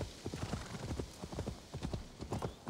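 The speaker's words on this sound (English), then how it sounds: "So now I'm going to call my new Draugr horse." Hooves of a Draugr horse in Assassin's Creed Valhalla clip-clop in a quick, steady trotting rhythm, close and clear, with faint game ambience underneath and no talk.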